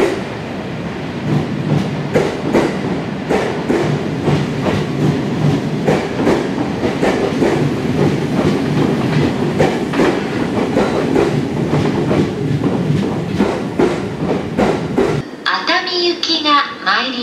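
An early-morning Utsunomiya Line train, a 15-car four-door set running through to Nikko, rolls past a station with loud, close, steady rhythmic wheel clacking. A station announcement voice sounds under it, and a brief tonal sound closes the clip.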